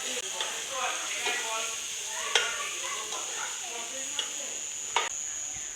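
Sliced okra frying in a pot, a steady soft sizzle and hiss with a few light scrapes and clicks of stirring, fairly quiet throughout.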